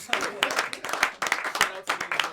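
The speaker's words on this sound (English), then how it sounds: "Everybody in the room could clap." An audience in a room claps in a dense, steady patter that runs for the whole stretch at moderate loudness, with crowd noise and voices mixed in beneath it.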